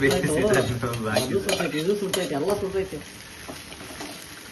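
Egg Maggi noodles frying in a pan on a lowered flame, stirred from bottom to top, with close sizzling and scraping spoon strokes under a speaking voice that stops partway, leaving quieter sizzle.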